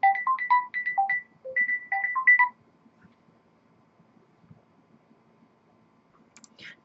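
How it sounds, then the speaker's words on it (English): A mobile phone ringtone plays a quick, bright electronic melody of repeated two-tone beeps for about two and a half seconds, then cuts off to near silence. "Sorry, my phone's ringing."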